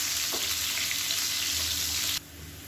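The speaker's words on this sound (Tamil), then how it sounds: "இந்த வெங்காயம் நல்லா வதங்கணும்" Small onions fry in oil for a South Indian side dish, a loud dense sizzle close up that suddenly drops to a quieter crackle near the end, with one stirring knock early on.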